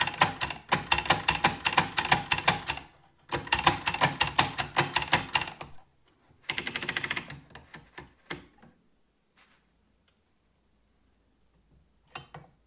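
An AEG Mignon 4 index typewriter types letters in quick clattering bursts, two long runs of rapid strikes followed by a shorter burst, then scattered single clacks and a late lone click, close and clear with no voices.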